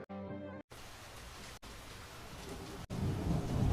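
Cartoon sound effect of heavy rain at night with thunder, a brief musical tone followed by a dense steady downpour hiss broken by short gaps, with rumbling growing louder at the end.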